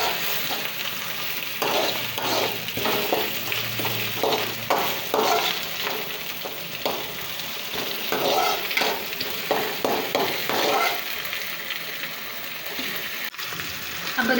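Ingredients for egg semiya biryani sautéed in a pan, with steady frying sizzle under a run of repeated stirring and scraping strokes, fairly loud and close throughout.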